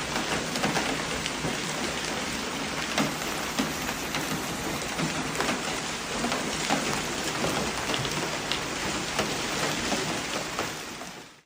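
Heavy rain pours down during a severe hailstorm in Paris, a dense, steady roar of drops drumming on surfaces with scattered sharper impacts, loud and continuous throughout with no voices.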